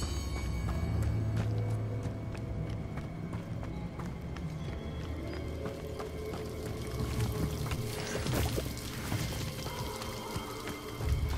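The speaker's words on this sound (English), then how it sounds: "Waterfall." A waterfall in the video game Hogwarts Legacy rushes as a continuous broadband roar at moderate level, steady throughout with no speech.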